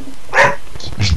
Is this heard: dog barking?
yes